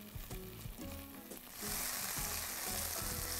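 Chicken sautés in a hot pan, with scattered clinks and stirring at first, then a loud, steady sizzle that surges up midway and keeps hissing close by.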